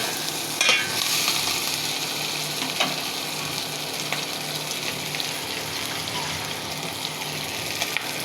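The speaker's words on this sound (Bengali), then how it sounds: "অল্প করে নাড়াচাড়া করে নেব।" Hilsa fish pieces cooking in a pan with salt and chili powder being stirred, a continuous close sizzle with soft scraping and occasional light ticks.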